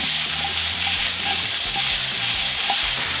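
Garlic sizzles steadily in a hot pan while being stirred, a close, continuous frying hiss with soft scraping, and no talking.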